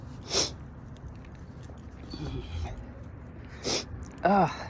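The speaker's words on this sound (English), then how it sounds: "nose is running because it's so cold. So apologies for the sniffles." A few short, sharp sniffs through a runny nose in the cold, spaced apart over quiet outdoor background noise on a rock walk, close to the microphone.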